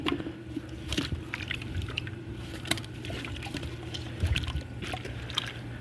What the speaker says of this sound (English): I'm gonna add a little bit more water and grind the rest of this stuff up.